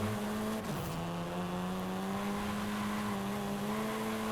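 A car engine hums at a steady pitch while driving through a city at night in a racing video game, with a brief rev change near the start and continuous drone and road noise throughout.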